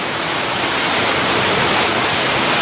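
A small stream's waterfall on Pounder Branch along the Sheltowee Trace pours in a steady, loud, close rush of white water, with no voices.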